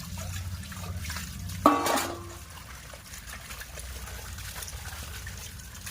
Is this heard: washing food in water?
yes